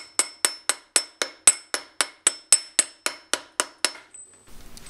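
Sharp hammer taps seating a BMW E46 differential input flange into place, about fourteen evenly spaced metallic strikes over four seconds, close and loud, then a brief quiet tail with faint rustling.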